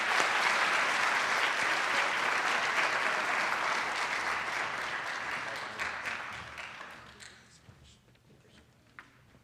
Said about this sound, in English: please join me in a round of applause for these deserving students